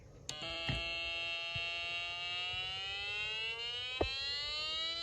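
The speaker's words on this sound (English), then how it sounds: "And it may sound like a siren as it becomes louder and then fades out." A Snap Circuits electronic siren wails with a bright, harmonic-rich electronic tone that slowly slides in pitch, holding steady and fairly quiet, with a few small clicks along the way.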